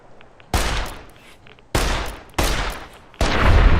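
Gunfire aimed at fire geckos in the video game Fallout New Vegas: four sharp, loud shots at irregular intervals, each with a noisy decaying tail, the last one leading into a sustained rougher burst.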